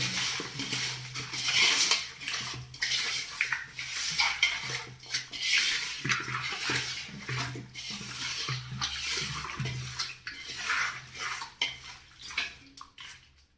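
Curd being stirred into chicken dum biryani in a pot brings repeated close scraping and clinking of a metal spoon against the vessel, steady and rhythmic throughout without talking.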